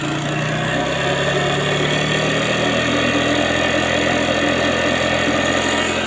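A Piaggio SR50 scooter's small engine idling on its stand, a steady buzzing drone with constant mechanical rattle, close and unbroken throughout with no talking.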